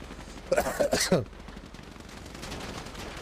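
A short burst of rapid gunfire, under a second long, during a GTA V roleplay turf war, followed by quieter game background noise.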